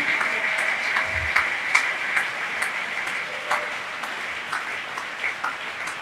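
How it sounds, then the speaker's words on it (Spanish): A church congregation applauds during a Spanish-language sermon: scattered, fairly faint clapping in a reverberant hall with sharp individual claps standing out over a steady tone and a low background rumble. "Aleluya, aplaudan."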